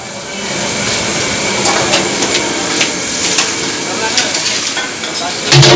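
Fish and eggs fry in a Kolkata street kitchen cooking lunch for hundreds, a steady broadband sizzle and hiss throughout, with faint clinks and a voice in the background.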